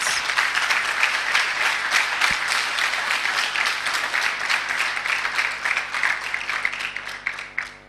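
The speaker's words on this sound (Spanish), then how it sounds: "Den un aplauso al Señor entonces." A church congregation claps steadily and loudly through the whole stretch, a dense, sustained applause with no talk over it, easing slightly toward the end.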